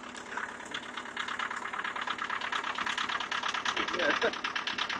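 A 1984 VW Jetta turbo diesel idling just after a cold start at high altitude, a steady rough mid-pitched clatter with a faint knock, recorded close under a moment of background voices.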